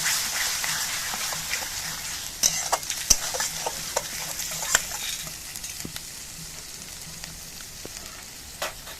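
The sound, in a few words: spice paste being stirred and fried in a pan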